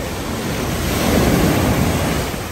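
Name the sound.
ocean waves at the beach in Cabo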